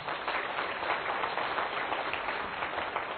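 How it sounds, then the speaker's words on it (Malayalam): A church congregation claps hands together in a dense, steady patter of many palms, continuous and moderately loud throughout without a break. "അത് കൈയുയർത്തി കൈയടിച്ചേ"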